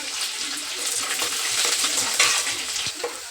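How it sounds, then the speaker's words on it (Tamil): Mustard seeds, chana dal, urad dal and garlic fry in hot oil, giving a bright, crackling sizzle with small pops that stays steady and close throughout, with no talking. "எண்ணெய் ஊற்றி கடுகு போட்டுக்கணும்."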